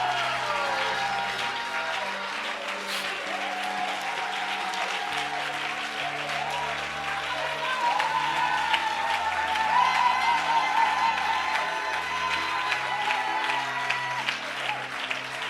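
A church congregation claps steadily and warmly throughout, with scattered shouts and music or voices mixed in underneath.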